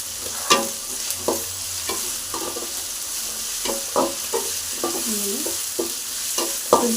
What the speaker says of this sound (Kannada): ಶುಂಠಿ ಬೆಳ್ಳುಳ್ಳಿ ಪೇಸ್ಟನ್ನು ಹಾಕಿ ಫ್ರೈನ ಮಾಡ್ಕೊತಾ ಇದ್ದೀನಿ.